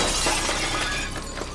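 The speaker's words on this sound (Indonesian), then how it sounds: "Suara pecahan kaca terdengar di seluruh rumah" A glass-shattering sound effect of a mirror breaking in a house: a loud crash of breaking glass followed by a dense spray of tinkling shards that slowly thins out.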